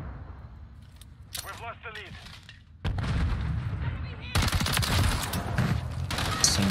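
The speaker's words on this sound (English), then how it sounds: "Somebody else shooting." Call of Duty: Modern Warfare 3 gameplay gunfire: scattered shots and bursts crackle through the game mix, growing louder and denser in the second half, with brief background voices.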